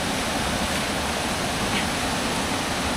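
A cold waterfall roars steadily and fills the scene with a dense, unbroken rush of falling water that stays at an even level throughout, with no voices.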